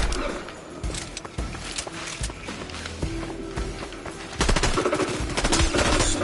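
Gunfire in a Fortnite Chapter 4 Season 4 zero-build solo battle royale: rapid bursts and repeated shots, dense and loud, intensifying in the final seconds.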